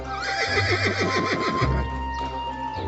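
A horse whinnies loudly and close by, its neigh rising and falling over a steady low rumble, with a brief clip-clop of hooves near the end.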